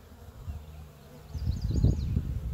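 Honeybees at an open garden hive with comb being worked, a soft buzzing that swells louder in the second half as bees fly close, steady and near with no talking.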